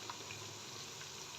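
A little water poured into a pan of chicken cooking with tomatoes and red chilli gives a soft, steady hiss and faint trickle, quiet and brief, with no voices.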